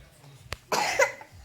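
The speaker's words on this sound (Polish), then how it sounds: "dzisiaj zaczęła tak strasznie kaszleć" A child's cough, one sharp cough followed by a longer rasping cough, close and clear.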